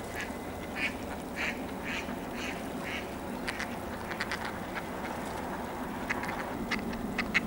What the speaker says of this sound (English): Well, we got ducks anyway. Lots of ducks.